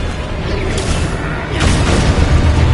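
Expulso explosion spell from Hogwarts Legacy going off as a loud, dense boom with a sustained rumbling roar that swells midway and stays heavy to the end.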